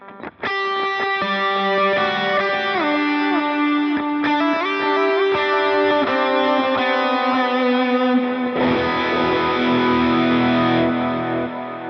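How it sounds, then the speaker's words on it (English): Electric guitar played through a Tube Screamer boost into a cranked amp, distorted lead notes and sustained chords ringing loud and alone with no talking. "The tube screamer works really well too. You know, as like a lead booster into a cranked amp."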